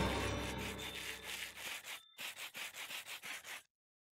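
Sandpaper rubs in a Minecraft modpack game, first as a dense continuous scratch and then as a rhythmic series of about eight even back-and-forth strokes, close and alone before it stops abruptly.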